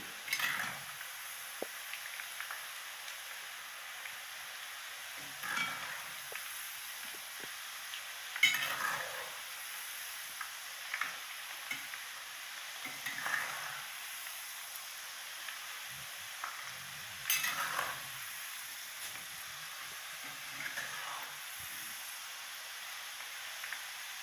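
Jackfruit chips frying in a pan of hot oil, a continuous soft sizzle with intermittent stirring scrapes and clinks of a utensil against the pot, close and alone without talk.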